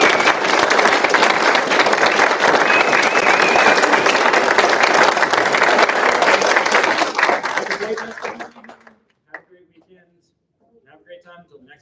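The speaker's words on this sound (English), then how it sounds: "One more round of applause." Loud sustained applause from an audience after student performances on the night before nationals, dense clapping that fades out near the end, followed by brief quiet voices.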